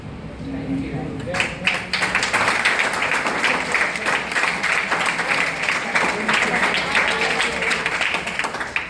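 An audience at a Science Day 2025 celebration at Government Engineering College, Dahod breaks into sustained applause, dense clapping filling the hall for several seconds, with a voice heard faintly at the start.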